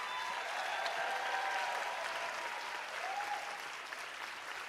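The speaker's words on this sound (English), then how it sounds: "a louder clap" An audience at an arts awards ceremony applauds steadily, a dense, even wash of clapping sustained throughout at moderate distance, with faint background tones running beneath it.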